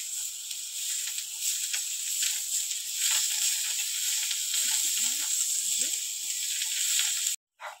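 Potatoes with turmeric and coriander leaves sauté in a pan for an egg curry, giving a steady, soft sizzling hiss with faint scraping stirs near the end.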